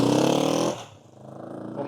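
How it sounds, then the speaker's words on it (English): A 1967 Honda CB450 Black Bomber motorcycle engine starting from cold, a loud close rumbling burst that drops off sharply, then settles into a quieter, lumpy idle. "it's a beautiful day to start up this beautiful black Honda, also known as the Black Bomber"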